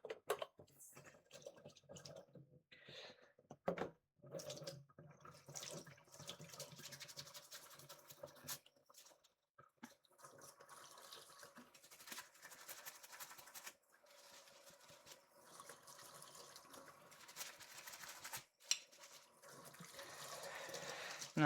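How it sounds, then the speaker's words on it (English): Tap water runs and splashes as an item is washed in a kitchen sink, with intermittent clatter and scrubbing, fairly quiet, with brief pauses and muffled talk in places. "I'm gonna wash this quickly, since I need it clean for the water anyway."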